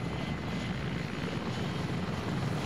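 A Hind attack helicopter in a military video game gives off a steady, broad rotor and engine roar, continuous and fairly loud with no pauses, and no voices over it.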